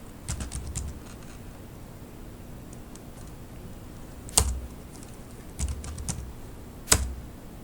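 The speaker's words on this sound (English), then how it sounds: "So let's go ahead to actually assign a password to our Sarah Smith" Keys tapped on a computer keyboard while a password is entered in Kali Linux: a few quiet clusters of light clicks separated by pauses, plus a couple of sharper single keystrokes, over faint background hiss.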